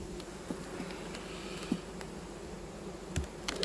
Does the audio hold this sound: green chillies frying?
no